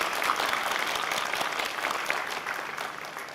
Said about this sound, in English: applaud the exceptional faculty and staff at MCC